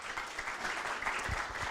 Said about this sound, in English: Another applause, please